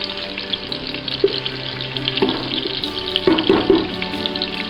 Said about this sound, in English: So I'm going to go ahead and give this a stir. Stir it up a little bit.